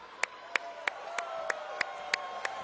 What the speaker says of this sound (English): Getting the crowd into it